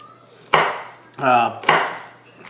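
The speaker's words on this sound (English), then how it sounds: "what we're gonna do is we're gonna just slice some of these" Mild peppers sliced with a knife on a cutting board for a Mississippi pot roast: a few sharp chopping strikes spaced about a second apart, close and clear with no talking.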